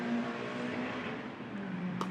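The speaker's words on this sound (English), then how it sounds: "Hard to hear the score with the traffic." Road traffic passes beside an outdoor pickleball court, a steady close rumble and engine drone with a faint tonal hum throughout, and no talk.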